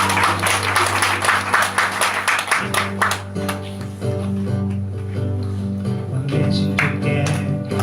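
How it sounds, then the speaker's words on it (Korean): A church congregation at Sunday worship claps in rhythm for about the first three seconds, and then the clapping gives way to sustained music. "우리 찬양받게 합당하신 주님께 박수 연주해주시옵소서"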